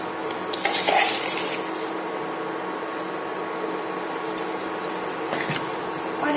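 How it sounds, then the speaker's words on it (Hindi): Sugar being stirred into thickening mawa in a cooking pan, a continuous scraping and gentle sizzling with occasional spoon clinks, close and steady throughout without speech. "अब हम इसे मावा बनने तक चलाते रहेंगे।"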